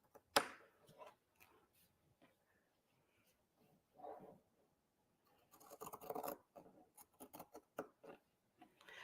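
Pinking shears cut through fabric in quiet snips and crunches, close by, sparse at first and then a quicker cluster of cuts.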